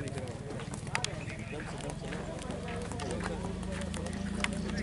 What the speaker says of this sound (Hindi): बहुत ही अच्छा और शानदार जो घोड़ा है वो